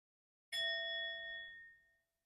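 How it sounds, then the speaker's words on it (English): One strike of a meditation bell rings out clearly in a quiet room, its bright tone sustaining and slowly fading over about a second and a half. "I'll invite the bell."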